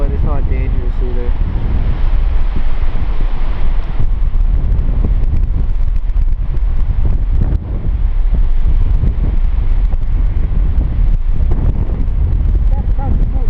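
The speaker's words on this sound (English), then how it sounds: "the wind is blowing almost parallel with the cliff to the north" Strong wind blows almost parallel along a cliff face, buffeting the microphone with a loud, steady low roar that continues with uneven gusts throughout.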